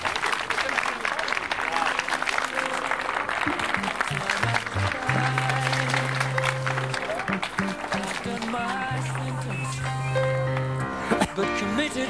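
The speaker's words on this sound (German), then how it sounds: "wir verabschieden Thomas Pancho und General November mit einem donnernden Applaus" A crowd at a race parade applauds throughout, sustained dense clapping mixed with music featuring held tones and bright melodic notes, loud and continuous.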